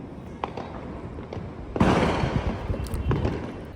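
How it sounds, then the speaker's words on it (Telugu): Diwali firecrackers bursting nearby in a residential neighbourhood: a loud crackling burst after scattered faint pops and bangs in the background. "చుట్టుపక్కల కాల్చే బాంబులను చూడండి"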